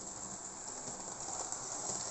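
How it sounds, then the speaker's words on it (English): A Kleinbahn D120 model locomotive runs along its track hauling a heavy French express train, making a steady, quiet mechanical whir and rolling hum with no voices. "Our little locomotive is working well."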